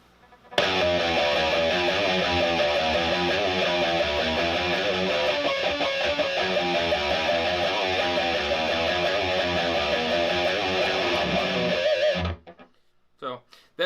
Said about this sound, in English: Just a little noisy, kind of dissonant thing with a pinch harmonic at the end.